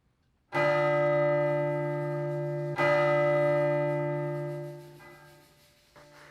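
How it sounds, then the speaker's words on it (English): A resonant bell in a high school stage production of A Christmas Carol tolls the hour of three. Two loud, ringing strikes decay slowly, and a fainter third stroke follows near the end, alone without speech. "The bell strikes 3."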